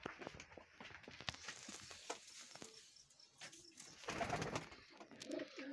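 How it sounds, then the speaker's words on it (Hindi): Soft pigeon cooing, faint and somewhat distant, mixed with rustling and light clattering noises nearby. "नाजरीन ये जो कबूतर हैं यासर भाई के घर के जोड़े हैं, चेक करें।"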